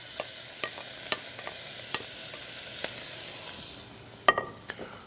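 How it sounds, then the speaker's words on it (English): Pre-cooked Italian sausage pieces drop into a hot pan for penne pasta Tuscane, setting off a steady sizzling hiss with scattered utensil taps, then a sharp clatter and a few louder scrapes near the end. "we're going to reintroduce our Italian sausage that's already pre-cooked. And we're just going to add it right to the pan."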